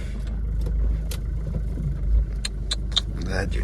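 An old family car being driven out, a low rumbling engine running close by with brief rises in revs, mixed with clicks and a person talking over it.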